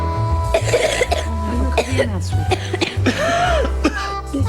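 A few harsh coughs from a person, interspersed with brief vocal sounds over light background music.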